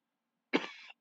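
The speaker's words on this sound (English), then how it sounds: "I got a cough" A single harsh cough, close and loud, followed right after by the start of another cough.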